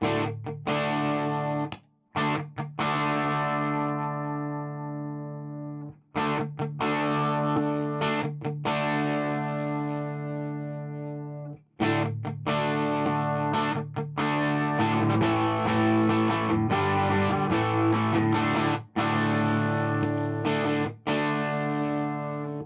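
A heavily driven Fender Princeton tube amp, cranked up, plays sustained, saturated electric guitar chords in bursts with short gaps, the tone thick and compressed, loud and close.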